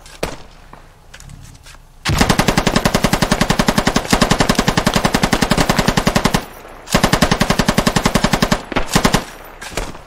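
Automatic weapon fire from a Squad firefight, sustained bursts of rapid, loud, close shots run for several seconds, break off briefly, then resume in a second long burst.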